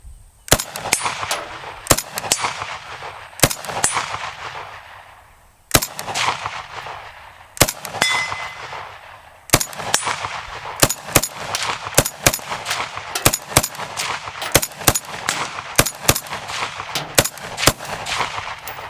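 A Ruger Mini-14 rifle fires a long series of sharp, loud gunshots, some spaced apart and others in quick rapid strings, each crack ringing out outdoors.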